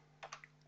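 Key presses on a computer keyboard while entering data into a LibreOffice Base database form: a few separate, crisp clicks spaced unevenly over a low steady hum, close and fairly quiet.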